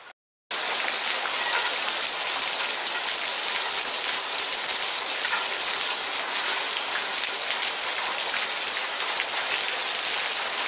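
Steady, dense rain pours down during a desert monsoon thunderstorm in Tucson, Arizona, a continuous close hiss that starts right after a brief silent moment and stays even throughout, with no voices.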